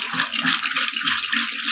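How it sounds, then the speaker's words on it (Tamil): Coconut oil poured from a tin over flowers in a vessel; a close, steady liquid splashing and gurgling pour, continuous and alone, with no talk. "ஒரு டின் தேங்காய் எண்ணெயும் பத்தல, இன்னும் ஊத்துறோம்."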